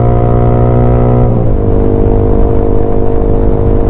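A Yamaha R15 with a loud Arrow exhaust holds a high, steady rev, then the pitch drops sharply about a third of the way in and settles into a rougher, lower engine rumble, loud and close.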